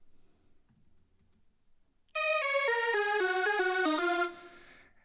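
Pitched electronic fill built from the last bar of a bass line, a quick descending run of bright synth notes lasting about two seconds, then a soft tail. It comes in after a stretch of quiet low rumble.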